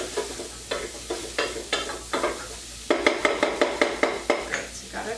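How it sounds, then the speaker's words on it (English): Onions, garlic and carrots sauté in a pan, a steady sizzle broken by a quick run of scraping stirs and clinks against the pan, the strokes coming faster toward the end. "Like a mirepoix going on here, minus the celery, with the onions and garlic, and now carrots."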